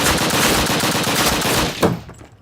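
Rapid automatic gunfire from a World War shooter video game, a dense continuous burst of overlapping shots that cuts off abruptly near the end, followed by a brief final crack and quiet tail.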